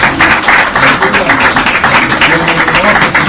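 Warm applause for Han Dong-hoon at a press event, a dense, sustained crowd clapping that fills the room, with a voice speaking over it.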